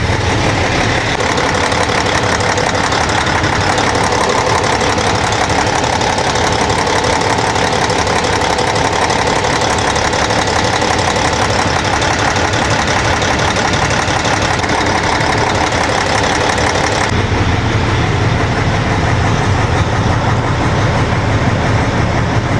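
A Cummins ISX diesel engine runs steadily during an injector test, a loud, close, continuous rumbling drone with a slight knocking texture, the tone shifting near the end, no voices.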